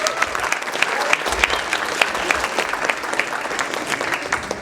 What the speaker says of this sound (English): So please clap it up for her one time.